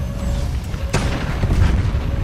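A single heavy Molot M2 tank cannon blast in the game Tanki Online booms out, a sharp deep thud with a rumbling tail amid continuous low engine noise.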